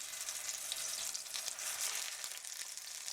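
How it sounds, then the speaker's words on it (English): Portobello mushrooms fry in heated olive oil in a large pan with a steady, close crackling sizzle, fairly quiet and unbroken, with no talk. "I've heated a layer of oil, olive oil in there, and I'm just going to cook these babies"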